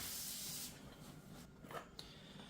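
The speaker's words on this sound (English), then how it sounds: "I like to always spray some WD-40 on a fresh drilled surface just to make sure it's nice and clean." WD-40 aerosol is sprayed onto a freshly drilled steel surface on a tractor bucket, a short, faint spray hiss followed by quiet handling sounds.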